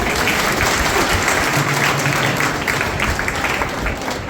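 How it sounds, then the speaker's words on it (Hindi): Audience applauding for themselves during a spiritual class, dense steady clapping that fills the room throughout, loud and close. "अपने लिए ताली बजाओ"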